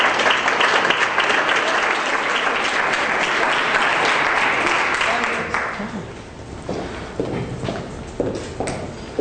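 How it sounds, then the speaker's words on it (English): An audience at a live talk event applauds, dense clapping that holds steady for about five seconds and then thins out into scattered claps and faint murmurs. "let's give Amanda a big round of applause"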